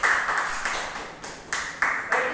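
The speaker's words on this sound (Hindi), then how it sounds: "एक बार जोरदार तालियां" An event crowd claps in a short, scattered burst, separate hand claps landing in an uneven rhythm at moderate volume.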